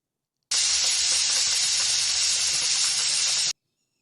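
Steam jets hard from a pressure cooker whistle as a stuffed brinjal and potato curry cooks inside, a loud, steady hiss lasting about three seconds alone before cutting off abruptly.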